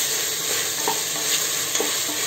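Chopped onions with salt sizzle loudly in a hot pan, a constant bright hiss broken by a few soft scrapes of a spoon stirring, with no voices.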